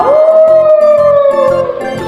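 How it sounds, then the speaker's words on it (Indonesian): A single long wolf howl holds one sustained, slightly falling tone, loud and close, with a soft rhythmic low pulsing beneath it and no talk. "Di sana terdapat hewan serigala"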